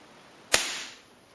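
One sharp, close crack from a Crosman 2100 pump air rifle fired at maximum pumps, a quick whip-like snap with a brief fading tail over a faint background hiss.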